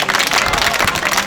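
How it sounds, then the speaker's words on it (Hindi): Crowd at a temple festival in India applauding to welcome the priest, a short dense burst of many hands clapping, loud and close. "तालियां बजाकर स्वागत करें"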